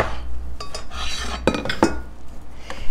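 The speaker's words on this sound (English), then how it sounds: "we're gonna stir this all around just to get everything really incorporated" A spoon scrapes and clinks against a pot as cheesy beef and pasta are stirred, with two sharper metallic knocks in the middle, close and alone without talking.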